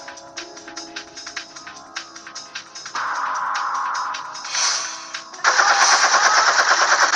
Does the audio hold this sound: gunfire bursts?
yes